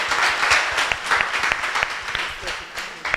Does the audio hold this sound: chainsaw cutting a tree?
no